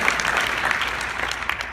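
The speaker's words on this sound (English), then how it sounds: "let's give her a huge round of applause" Audience applause at a Tom Ferry Blueprint event in Orlando, Florida: a steady, dense wash of many hands clapping at fairly close range throughout, with no talk over it.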